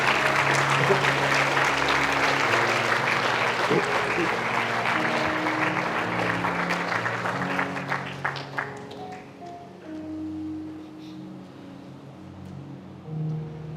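A church congregation at a Sunday service applauds loudly with dense clapping over a sustained musical tone, the clapping tapering into scattered claps and fading as soft keyboard notes continue.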